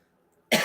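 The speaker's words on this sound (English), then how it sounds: "I'm sorry, I'm coughing" One sudden, loud cough bursts out after a stretch of near silence and cuts off at the end.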